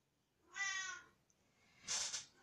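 A small cat meows twice, a drawn-out harmonic meow followed by a shorter, brighter one, close by in a quiet room with no one speaking.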